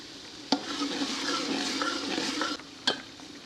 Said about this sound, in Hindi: थोड़ा सा पानी शामिल कर लेंगे ताकि आलू जो डाले हैं हमने तो वो गल जाएं।